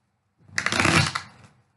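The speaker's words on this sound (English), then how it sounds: "let me shuffle again" Tarot cards riffle in one brisk, close shuffle lasting about a second, a crisp fluttering burst that rises and then trails off into quiet.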